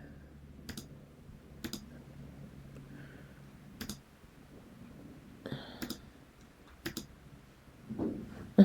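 Sharp computer mouse clicks, about six single clicks spaced roughly a second apart, close and clear over a faint room hum with no talking.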